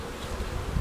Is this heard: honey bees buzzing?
yes